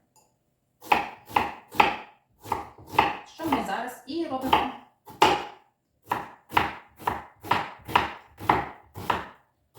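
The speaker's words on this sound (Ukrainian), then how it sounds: "порізати цибульку" A knife dices an onion on a cutting board, a dozen or so even strikes in quick rhythm, with a brief spoken phrase partway through.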